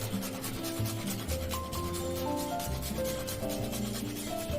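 Poha is rubbed and mixed by hand with sugar and ground nutmeg, a continuous dry rustling and grainy scraping, close and steady, with faint tonal sounds in the background.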